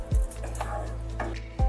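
Katla fish rezala being stirred in a pan after a little water is added, a low sizzle with a few sharp scraping knocks of the spoon near the start and end.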